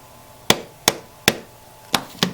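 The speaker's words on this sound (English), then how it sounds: "grab your hammer, keep that hole covered, and begin tapping out that pin." Five sharp, separate hammer taps knocking a small pin out of a Benelli Super Black Eagle 3 shotgun, close up and evenly spaced with a short ringing decay after each, no talking.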